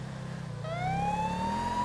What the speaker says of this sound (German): Machen Sie nochmal die Sirene an, richtig durch und dann aus.